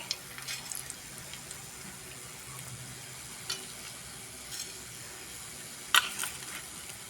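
Fenugreek seeds and cumin sizzle in hot oil for tomato sambar, a soft, steady crackle with a few sharper pops and spatters, close and quiet.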